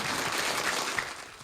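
Audience at a fintech summit breakout session applauds in a dense, even wash of clapping, steady and moderately loud throughout the short burst.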